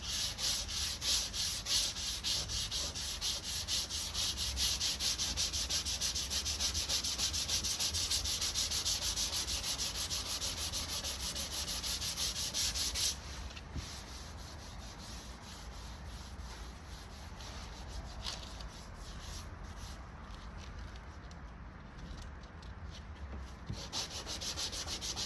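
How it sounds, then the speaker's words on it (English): Hand sanding on a car bumper during repair: a continuous, close, gritty rubbing that runs strongly for about thirteen seconds, then turns softer and lighter while the strokes carry on steadily. "Now I'm going to slowly sand towards the tape."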